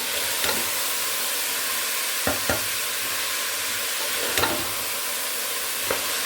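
Bottle gourd vegetables sizzle in a little hot oil, a steady close frying hiss with a few sharp stirring clinks and scrapes, and no talking.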